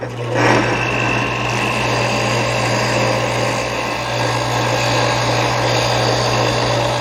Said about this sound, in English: now we can refine the shape here at the disc sander